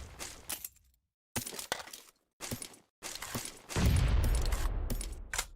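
A battle royale video game match produces bursts of crackling gunfire and debris, broken by brief silences, then a loud, rumbling grenade explosion that lingers with heavy low-end boom at the end.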